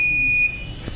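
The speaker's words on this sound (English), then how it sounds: "So in this case you should get the buzzer alert as well as message alert." Buzzer alert from an ESP32 IoT health monitoring system, a loud steady electronic tone lasting about half a second, then cutting off into quiet room noise.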